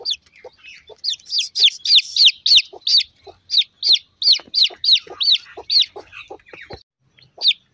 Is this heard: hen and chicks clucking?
yes